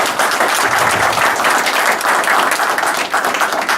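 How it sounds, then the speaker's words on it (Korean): Sustained audience applause at a management seminar lecture, dense and steady clapping from a large crowd filling the whole stretch at a loud, even level. "우리 이영호 회장님께 정말 힘찬 격려의 박수 부탁드립니다."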